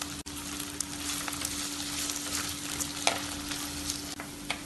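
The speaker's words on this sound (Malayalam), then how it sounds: "നെയ്യ് ചൂടാവുമ്പോൾ ഇതിലേക്ക് 2 സവാള നീളത്തിൽ മുറിച്ച് ചേർക്കാം ഇതിന്റെ കൂടെ കുറച്ച് കറിവേപ്പിലയും കൂടെ ചേർത്ത് കുറച്ച് സമയം ഇളക്കി വഴറ്റാം" Sliced onions and curry leaves sizzle steadily in hot ghee for an Eid biryani, with a continuous close frying hiss, a low steady hum and occasional soft clicks of stirring; no one speaks.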